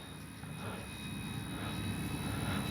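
A Dynam F6F Hellcat RC plane passes low and slow with landing gear and flaps down, its electric motor drone steadily swelling as it approaches, no voices over it.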